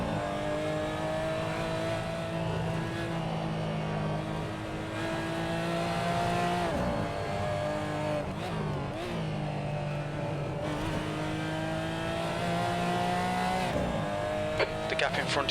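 A Porsche Cayman GT4 race car roars at Road Atlanta in a sim racing game, engine pitch climbing and dropping through gear shifts, loud and continuous with occasional spotter calls over it.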